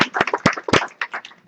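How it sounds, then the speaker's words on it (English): A small audience clapping to welcome speakers at a brown-bag talk, a short burst of scattered claps that thins out quickly, fairly close. "So if you can give a round of applause, please, to Progress Period"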